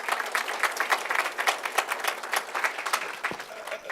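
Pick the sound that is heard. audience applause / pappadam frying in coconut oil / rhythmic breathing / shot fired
audience applause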